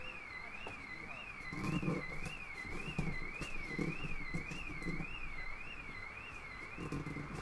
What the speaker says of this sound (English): Sorry about the car alarm if you can hear that.